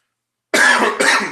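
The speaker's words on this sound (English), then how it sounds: "Instead, I'm just coughing." Two harsh coughs in quick succession, close and loud, after a moment of silence.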